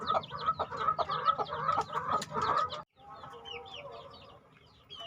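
Crossbred chickens, hens and roosters kept for breeding, cluck in a dense, busy flock, close and fairly loud, with a brief pause before softer clucking and calls resume.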